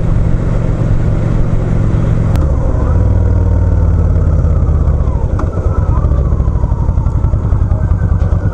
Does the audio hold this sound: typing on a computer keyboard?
no